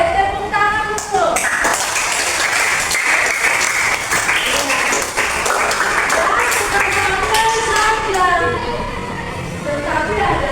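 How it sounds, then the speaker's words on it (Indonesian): Schoolchildren in a classroom clap together in a lively, sustained burst that continues for several seconds, loud and near, with voices and a tonal melody heard over the clapping. "Oke, tepuk tangan dulu."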